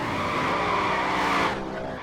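V8 Supercar roaring past in the racing game Forza Motorsport 4, a loud close engine howl with tyre squeal that cuts off abruptly as the car goes by.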